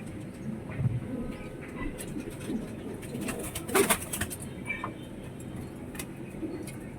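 Pigeons cooing in a pigeon loft, a steady low burbling that runs throughout at moderate, close range, with a few soft rustles and flutters around it and no talking.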